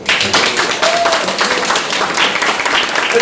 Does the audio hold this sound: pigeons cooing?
no